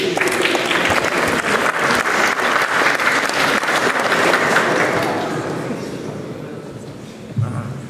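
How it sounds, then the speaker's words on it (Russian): An audience at an outdoor poetry concert claps loudly and steadily for several seconds, then the applause gradually thins and fades. A brief voice is heard at the end. "А вы крепче хлопайте в ладоши"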